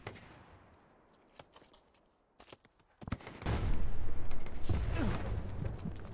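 Artillery rounds landing nearby in the World War II shooter Hell Let Loose: faint scattered distant shots at first, then a heavy, loud rumbling impact roar that swells and sustains for the last few seconds.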